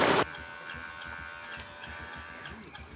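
A Philips OneBlade electric trimmer hums with a steady, thin buzz close by after a brief loud burst at the start, running at a constant pitch with faint rustling underneath.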